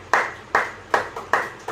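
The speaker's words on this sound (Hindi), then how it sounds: "मैं इस समस्या का समाधान के लिए तालियां बजाऊंगा।" Hands clap five times in an even, steady rhythm at close range, each clap sharp and bright with a quick decay, with no voices or other sounds around them.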